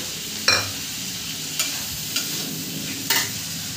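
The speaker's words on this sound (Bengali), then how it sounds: "এগুলোকে আমি ভাজা ভাজা করবো বেশ কিছুক্ষণ ধরে" Ginger-garlic paste with cumin and coriander powder sizzles in hot oil in a pan with a steady frying hiss, marked by four sharp stirring scrapes or clanks spaced across the clip; no speech.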